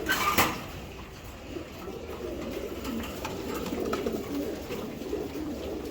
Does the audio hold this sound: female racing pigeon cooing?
yes